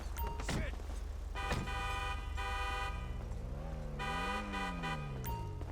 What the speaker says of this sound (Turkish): Bak bir de korna öttürüyor.